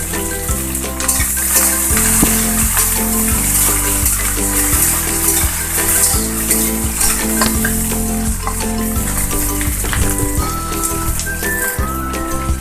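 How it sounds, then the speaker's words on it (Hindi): Okra and onion fry in a pan with a loud, steady sizzle that runs through the whole stretch. Music plays over it. "एबे आमे भेंडी को पकई की फ्राई करनबा"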